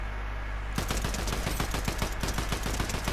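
Rapid assault rifle fire in Call of Duty, a loud close burst of evenly spaced shots continuing without a break, starting abruptly after a short quiet moment with no talk.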